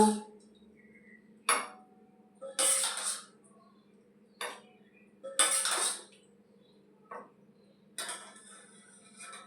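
Homemade red lentil dal cooked with onion being served into a bowl, with a series of sharp clinks and scrapes of dishes and utensils coming in separate bursts, close and fairly loud over quiet pauses.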